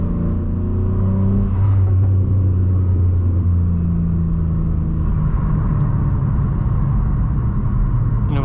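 A BMW M3 Competition fitted with an axle-back exhaust gives off a deep, loud rumble at close range, its low drone swelling briefly as the revs rise and then settling into a steady growl.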